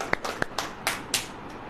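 A few scattered hand claps from a congregation at a sermon, two sharp close smacks followed by softer, broader, uneven claps, irregular and brief against a quiet room.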